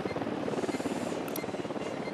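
Enemy helicopter approaching in the game Ghost Recon Wildlands, a loud continuous rotor chop with rhythmic thumping blades and engine whine, close and steady throughout.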